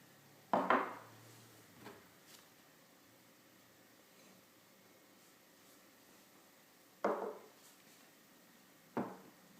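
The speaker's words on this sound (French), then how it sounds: "Tout d'abord, on va mélanger le parmesan." Parmesan being stirred into flour in a bowl for parmesan shortbread, heard as a few scattered scraping and knocking clatters against the bowl in a quiet kitchen, with long near-silent gaps between them.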